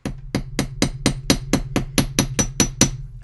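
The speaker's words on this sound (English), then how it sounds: "and now I'm going to hammer it." Steady metallic hammer strikes on wire, about a dozen evenly spaced blows, sharp and close, ringing briefly after each hit with no talking.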